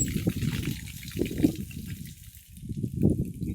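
Running water splashing and trickling steadily from a farm tap, a soft continuous pour with slight surges, fairly close.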